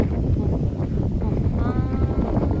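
Wind blows steadily along the Mekong riverbank, buffeting the microphone with a loud, continuous low rumble, with a voice faintly audible partway through.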